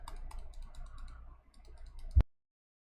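Computer mouse clicking in a quick, uneven run while a chain is edited on screen, each click light and dry, close and alone, ending in one louder knock.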